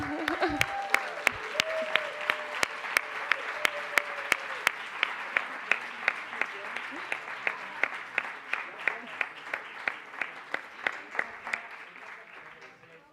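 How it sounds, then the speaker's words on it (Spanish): Symposium audience applauding, a few hands at first then settling into slow, evenly spaced rhythmic clapping that gradually fades over about thirteen seconds, with brief voices early on. "un fuerte aplauso para el Hub de África"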